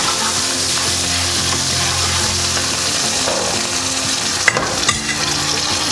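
Spiced chicken seasoned with salt, black pepper and cumin sizzles steadily in a pan while a utensil stirs it, a few scraping knocks near the end rising above the constant frying hiss.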